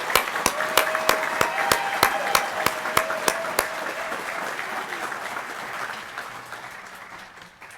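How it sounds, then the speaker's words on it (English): Applause rises at a graduation ceremony for heavy vehicle technology graduates, with a few sharp, rhythmic claps standing out near the front over the wider crowd before the sound fades gradually toward the end. "So let's give those heavy vehicle technology graduates one more round of applause."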